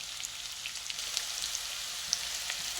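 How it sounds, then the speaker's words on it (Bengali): Chopped onions frying in a pan for a boneless chicken dish, a steady soft sizzle with faint crackles and pops, no voices. "আমি পেঁয়াজটা সামান্য একটু লাল করে ভেজে নেব"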